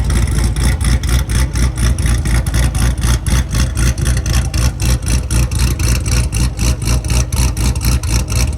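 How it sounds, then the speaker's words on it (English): A race car idles with a pronounced cam chop after a Ryan Cunningham retune, steady rhythmic lumpy pulses pounding loud and near throughout. "Chop with the Ryan Cunningham tune."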